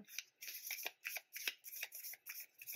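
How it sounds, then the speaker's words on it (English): Crisp, repeated riffling of tarot cards being shuffled up close, in quick bursts with short pauses between, quiet and without talking. "As always, I will shuffle live."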